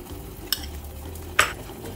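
A spoon stirring pasta and peas in a pot, two quick clinks against the metal amid a low simmering hiss, close and quiet with no talking.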